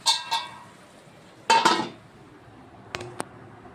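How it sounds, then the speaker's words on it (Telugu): Metal lid set down on a pot of eggplant curry, a few sharp clinks and rattles near the start and middle, then two small taps, close and alone. "ఇంకొకసారి మూత పెడదాం, మళ్ళీ రెడీ చేసేద్దాం"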